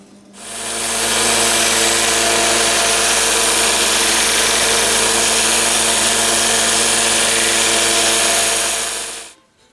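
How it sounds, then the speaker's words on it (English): A small belt sander runs on wooden salad tong edges, spinning up to a loud, steady abrasive whir that holds for several seconds before winding down. "I'm going to use my little belt sander, and we'll soften these up"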